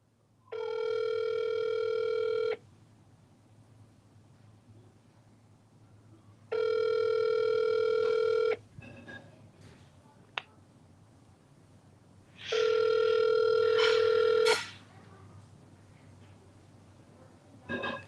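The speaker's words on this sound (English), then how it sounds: "Answer the phone" An outgoing phone call rings back three times, each long steady electronic tone lasting about two seconds with gaps of quiet in between, fairly clear and close.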